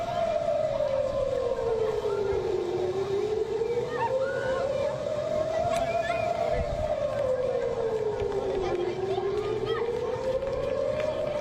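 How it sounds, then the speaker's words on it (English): An air raid siren wails during a rocket attack in Israel, rising and falling in long slow sweeps, loud and continuous over a dense crowd and background din. "Their residents were herded indoors by air raid sirens."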